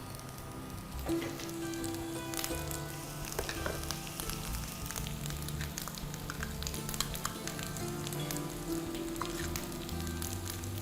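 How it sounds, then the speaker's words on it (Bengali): Ginger and garlic fry in oil with turmeric, chili and salt, giving a faint, steady sizzle with light crackles throughout and occasional soft clinks. "আদা রসুন ভাজা হলে আমি একে একে হলুদ মরিচ লবণ সব দিয়ে দিব"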